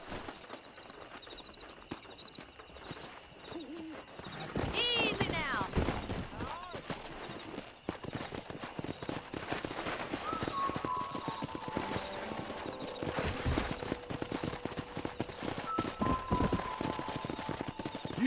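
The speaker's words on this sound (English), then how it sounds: "there's a pack of wild horses nearby" Wild horses galloping in the Red Dead Redemption video game, rapid hoof clip-clops drumming across the ground amid game ambience, with a sweeping whinny-like tone early on.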